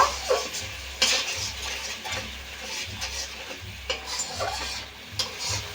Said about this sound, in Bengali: সর্ষে বাটাটাও একটু বেশ ভালো করে কষে নেব